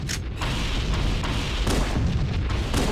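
Life pods being blown up by the Covenant in the video game Halo, heard as a steady wash of deep rumbling booms and muffled explosions for a few seconds, with no talk over it.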